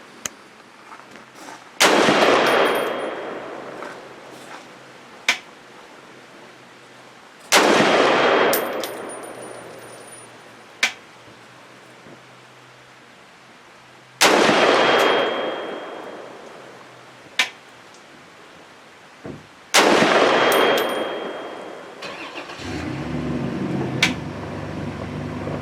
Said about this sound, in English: since I'm using irons, I'm going to be shooting 50 yards to keep it fair for the gun